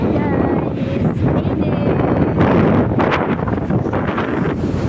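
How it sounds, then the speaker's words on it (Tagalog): Strong wind at the seaside on Baybay Boulevard, Borongan, Eastern Samar, buffets the microphone nonstop with a loud low rumble, rising in gusts and overlaid with rustling. "Tunog ng hangin oh."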